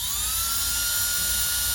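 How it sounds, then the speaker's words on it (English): A steady, high-pitched electric drill whine runs continuously at close range, drilling holes for hummingbird feeders, with a low rumbling hum underneath and no pauses. "I'm going to drill down in here"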